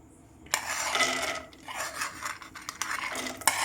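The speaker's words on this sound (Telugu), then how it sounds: "నెయ్యి అయితే కరిగిపోయింది కదా ఈ డ్రై ఫ్రూట్స్ని అయితే ఫ్రై చేసేసుకుందాం" Cashews and almonds frying in melted ghee, with a metal spoon scraping and stirring through the pan in uneven bursts over a soft background hiss.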